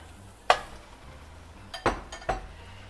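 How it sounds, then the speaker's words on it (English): Pieces of lamb dropped into a curry pot, then stirred: a sharp clink of a utensil on the pot, a pause, then two more knocks and scrapes, close and moderately loud over a faint sizzle. "and now I will add the lamb to it"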